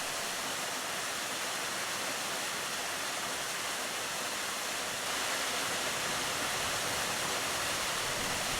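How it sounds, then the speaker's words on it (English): Steady, loud wash of surf and running water on a Pacific shore along the West Coast Trail, a dense continuous roar with no distinct breaks and no talk. "Surf, tide pool, beach, stream, forest, all of them side by side."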